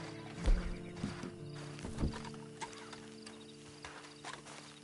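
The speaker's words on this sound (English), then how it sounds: "Then you better get on this horse." Horse hooves clip-clopping in the western video game Red Dead Online, a few distinct thuds in the first half followed by lighter steps, with low background hum and no talk.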